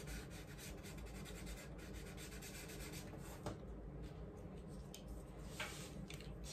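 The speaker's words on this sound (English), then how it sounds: "Using my pinky finger to just blend it in. I'm going in a circular motion." A pinky finger rubs in small clockwise and counterclockwise circles over a hyperrealistic pencil drawing, blending graphite in a soft, continuous close-up scratchy rustle with no talking.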